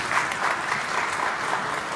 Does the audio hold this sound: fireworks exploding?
no